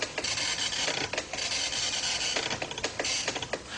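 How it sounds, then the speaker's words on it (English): A Commodore 64 printer printing out a program listing: a fast, continuous rasping chatter of the print head with rhythmic bursts as lines are struck, close and steady, with no talking. "instead of listing to the screen, the computer will list to the printer"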